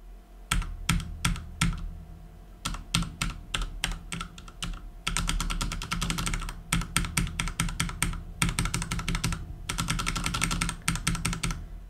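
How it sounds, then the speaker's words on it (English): Unlubed black mechanical keyboard switches typed on a numpad, close and crisp: rapid clacking keystrokes in bursts, sometimes single and sparse, sometimes dense fast runs, with short pauses between. "This is how unlubed black switches sound like."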